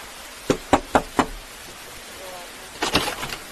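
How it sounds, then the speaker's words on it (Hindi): Four sharp knocks on a door in quick, even succession, fairly close and distinct, followed after a pause by a brief burst of other noise. "एक दरवाज़ा खटखटाया जाता है।"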